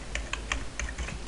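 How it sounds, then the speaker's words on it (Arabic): Keys clatter on a computer keyboard while a download address is typed into a web browser: about seven quick, crisp clicks at close range in an uneven rhythm, with no voices. "فاروح كده على البراوزر واكتب جي دي كي"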